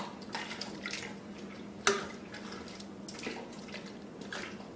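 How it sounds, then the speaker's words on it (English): Paper tags and their strings are dipped into coffee-tinted water, giving soft, low sloshing and splashing with one sharper plop, quiet and close with no talk. "Submerging in the water."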